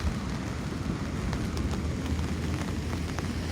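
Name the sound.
rain falling at Kalathas beach, Crete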